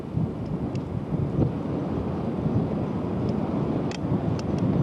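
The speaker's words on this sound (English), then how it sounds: "The wind's really gusting up here at this elevation." Strong gusting wind at a high lookout above Athens buffets the microphone in a steady, loud roar with low rumbling surges throughout, no voices heard.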